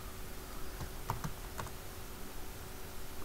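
A few soft, scattered keystrokes on a computer keyboard as a command is entered in a Linux terminal, faint clicks over a steady background hiss with no talking.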